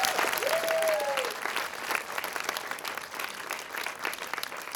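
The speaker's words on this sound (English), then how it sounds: "let's give our families and our parents a round of applause as well." A graduation audience applauds families and parents, a dense round of clapping that swells early and gradually thins, with a brief whistle-like tone near the start and some crowd voices underneath.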